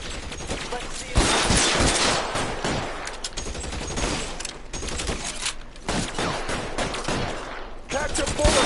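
Heavy, continuous gunfire from a shootout in the crime game L.A. Noire, loud, close bursts packed tightly together with shouted voices breaking in over the fire.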